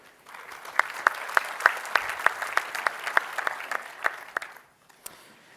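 Audience applause at a tech presentation, a steady wash of clapping with a few louder individual claps, fading out abruptly.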